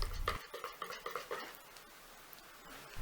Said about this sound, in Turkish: Unu da içerisine güzelce karıştırıyoruz.